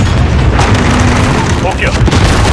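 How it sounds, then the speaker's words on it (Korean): A missile launch erupts into a loud, continuous rumbling boom during a Call of Duty: Modern Warfare campaign mission at an embassy, with dense, roaring low-end noise throughout. "미사일 발사."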